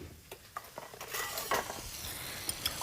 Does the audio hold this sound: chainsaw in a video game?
no